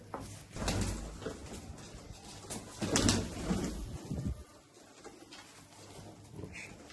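Golden or Sialkoti pigeons cooing in short, soft bursts at close range, with the calls strongest midway and fading into a quieter stretch with faint bird sounds.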